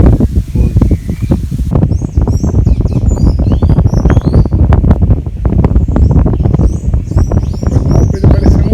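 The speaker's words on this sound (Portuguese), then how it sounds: "Olha o sanhaço. Olha o sabiá." Sanhaço tanager and sabiá thrush sing beside a country road on a cycling trip near Cotaxé, bright repeated chirps and phrases over steady wind and rustling, with low rumbling noise beneath.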